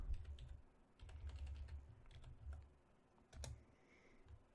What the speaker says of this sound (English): I'm sorry if you can hear my keyboard